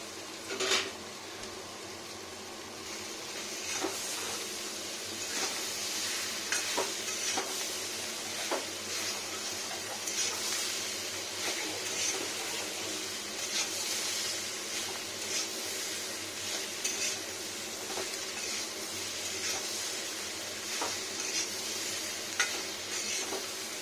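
Continuous sizzling of green jackfruit frying in an iron wok, punctuated by frequent scraping and clanking of a spatula against metal.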